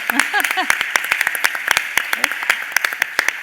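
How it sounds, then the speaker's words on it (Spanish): A live audience at an educational technology congress gives scattered, uneven clapping that sounds close, with a voice speaking at the start. "mira qué bien sienta el aplauso en directo"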